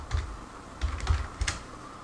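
Computer keyboard keys pressed for a Photoshop shortcut, a few crisp clicks in small clusters close to the microphone, with brief pauses between them and no voice.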